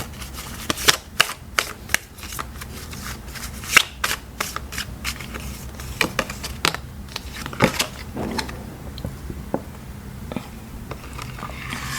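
A deck of tarot cards being shuffled by hand for a love reading, with repeated quick riffling and flicking bursts close up, steady rhythmic shuffles across the whole stretch with no talk.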